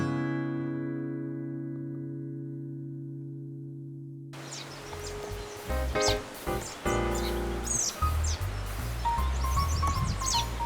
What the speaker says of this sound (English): Just look at these cute little robins.